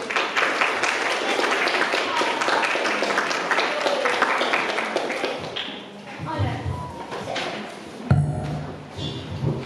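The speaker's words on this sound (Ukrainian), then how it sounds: "Оплески" A crowd at a Ukrainian Savior's Day harvest gathering breaks into dense applause that holds steady, then thins into scattered claps, taps and thumps with a voice speaking near the end.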